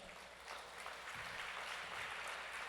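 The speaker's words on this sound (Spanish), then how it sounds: "Denle un aplauso a la palabra del Señor." Church congregation applauding after a scripture reading, a dense continuous clapping wash heard from a distance, fairly faint and even throughout.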